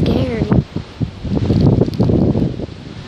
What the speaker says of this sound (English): Oh, the wind's blowing.